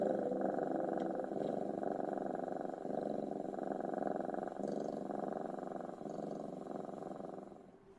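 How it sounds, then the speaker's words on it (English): A cat purrs eerily in a steady, continuous low rumble that stays close and fairly loud throughout, fading slightly at the very end. "that eerie cat purr at the end"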